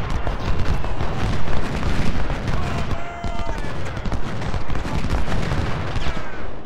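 Cannon artillery fire in the Civil War strategy game Ultimate General: Civil War, a dense run of booming shots and crackling gunfire layered over one another, loud and near throughout.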